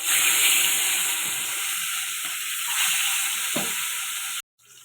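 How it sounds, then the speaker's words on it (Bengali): Katla fish, washed and rubbed with turmeric and salt, frying in mustard oil, giving a steady close sizzle and hiss with a brief spatter near the end before cutting out abruptly. "কাতল মাছটা ধুয়ে হলুদ লবণ মেখে নিয়েছি, ভেজে নেব"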